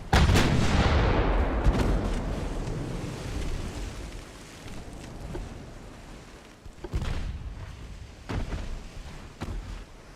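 Heavy warship gunfire in the naval game Ultimate Admiral: Dreadnoughts, a loud booming salvo at the start decaying into rumbling ocean noise, with further distant cannon thuds around seven and nine seconds.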